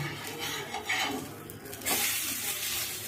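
Onion dosa batter sizzles steadily on a hot pan, close up, with a brief scrape partway and a louder hiss swelling near the end.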